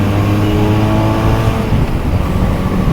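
A 2023 QJMotor SRK400 motorcycle engine drones loud and close while riding, its steady mid-pitched hum shifting slightly in tone as the revs change, with wind noise underneath and no talk.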